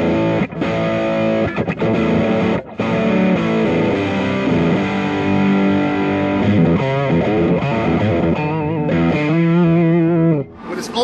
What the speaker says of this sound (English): It's really a distortion with a little hair on it.